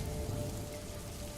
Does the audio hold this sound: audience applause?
no